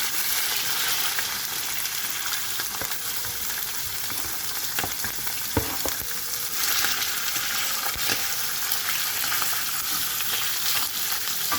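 Continuous loud frying sizzle of chopped liver sautéing in a hot pan, with occasional scraping and stirring clicks, the crackle holding steady throughout.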